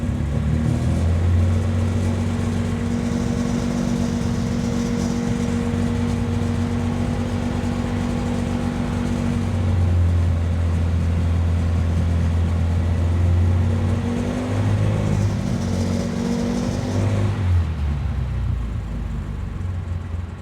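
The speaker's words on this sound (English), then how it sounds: "I'm going up in RPMs now." A car engine holds a steady drone, then climbs to higher RPM in stepped rises before dropping back, loud and close throughout with no talking.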